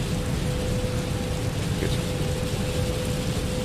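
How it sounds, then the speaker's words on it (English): Steady rain in Microsoft Flight Simulator 2020 as an airliner climbs through clouds, a constant dense hiss with a low cockpit hum beneath it, filling the whole stretch, with a brief spoken word over it. "In a bit of rain, coming through the clouds."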